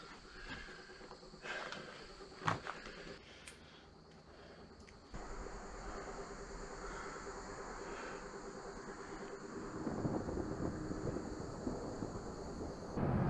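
Thunder from an approaching storm over the Shenandoah Valley rumbles low and distant under wind and outdoor noise, swelling louder toward the end of the stretch.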